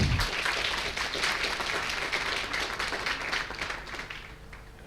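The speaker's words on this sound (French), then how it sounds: "Oh, allez-y, applaudissez." Conference audience at a professional congress in Vannes applauds steadily for nearly five seconds, a dense, even wash of clapping that slowly fades toward the end.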